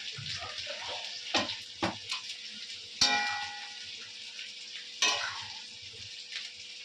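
Mutton curry fries in a pan with a steady, soft sizzle, broken by sharp scraping clanks as it is stirred every second or two, with no talking.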